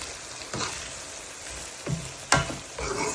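Tomatoes and chickpeas cook down in a pot with a steady close sizzle, broken by a few scraping stirs and one sharp clink of a utensil against the pot.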